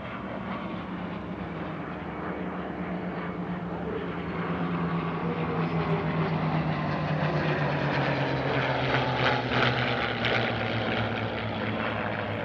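Vintage DC-3 and Beech 18 propeller airplanes fly in a four-ship formation at an airshow, a steady droning engine roar with a slowly shifting pitch that swells slightly louder midway, continuous and fairly distant, with no talking.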